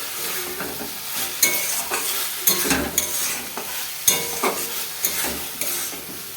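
Potato and papaya curry frying in a pan, a loud steady sizzle with repeated scraping strokes of a spatula stirring throughout, close and without talk.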